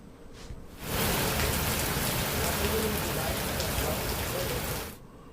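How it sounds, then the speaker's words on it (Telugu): Heavy evening rain in Hyderabad pours down in a dense, steady hiss, swelling in abruptly after a second and cutting off near the end. "సాయంత్రానికి జోరువాన కురుస్తోంది"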